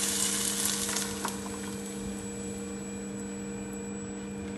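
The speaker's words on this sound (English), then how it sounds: "I'm gonna add my heavy cream" Heavy cream poured into a pan of stew chicken, a soft sizzle and bubbling that is strongest at first and then settles into a steady, quieter fry under a constant low hum.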